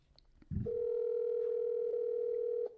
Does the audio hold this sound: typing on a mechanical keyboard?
no